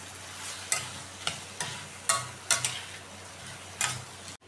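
A spoon stirs bitter gourd sabzi mixed with spices and peanut powder, scraping the pan in about eight sharp strokes spaced irregularly, with a faint sizzle underneath and no voices.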